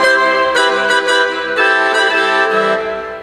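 A Yamaha Genos keyboard on a Christmas setting plays full-chord harmony in OTS 4 mode: rich sustained chords with several sharp new attacks, loud and close, with no talking.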